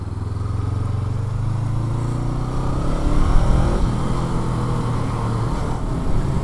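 A 2019 Honda CBR500R motorcycle engine drones steadily while riding, its pitch rising through the gears with a brief dip at a shift, close and continuous under wind noise, no talking.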